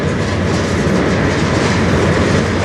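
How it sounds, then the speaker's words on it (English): A CN freight train rumbles through a long rail tunnel under the border between the States and Canada, loud and close, with continuous rolling wheel noise and rhythmic clickety-clack of cars passing, no voices. "And part of this train is still down there."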